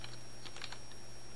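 Keys on a computer keyboard are struck in a quick run of soft, close clicks over a steady background hum, brief and evenly paced.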